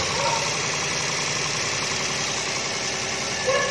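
A 2016 Toyota Agya automatic, type G, with a 1000 cc three-cylinder engine, idles with a steady, even hum and a faint ticking rhythm at close range, with no voices.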